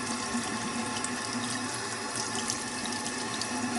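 Tap water runs steadily into a sink while a makeup brush is rinsed, a constant soft hiss and trickle, close and unbroken with no voices.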